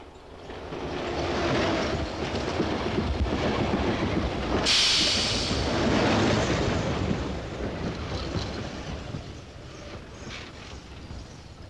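A train rumbles past on the tracks, its broad roar building, holding for several seconds, then slowly fading as it moves away.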